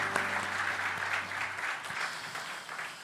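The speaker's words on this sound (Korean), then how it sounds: "서로 향해 한번 격려의 박수 하도록 하겠습니다." A church congregation at a Sunday worship service claps in encouragement, a steady, full round of applause from many hands in a large room, with a low sustained tone underneath at the start.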